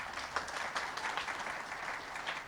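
Audience giving a round of applause, steady dense clapping that stays fairly faint and even for a couple of seconds with no voices over it.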